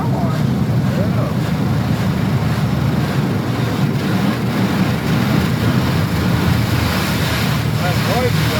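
High-pressure spray jets in an automatic car wash roar steadily and loudly, a dense broadband rush with no break, while people talk over it.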